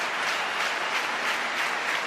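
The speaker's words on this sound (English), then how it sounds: "Crowd as animated as they've been at any stage during the evening" A football stadium crowd roars and cheers during a Sweden vs England match, a dense, steady wall of noise that swells slightly in waves and never lets up for the whole stretch.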